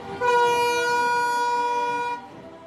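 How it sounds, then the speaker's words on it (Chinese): A long, loud horn blast from the Shenyang–Vientiane international freight train of the China–Laos Railway departing Hushitai station, one sustained tonal note that holds for about two seconds and then cuts off. "随着一声汽笛长鸣"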